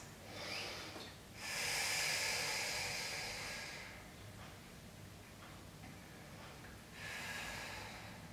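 Audible breaths during a Pilates stretching routine, with two long airy exhalations, one lasting several seconds and a shorter one later, set against quiet room noise.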